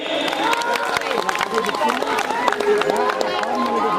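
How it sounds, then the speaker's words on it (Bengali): Audience applause at a school diamond jubilee ceremony in Tufanganj, steady dense clapping from a large crowd mixed with chatter and a voice over loudspeaker. "সবাই একটা জোরে হাততালি।"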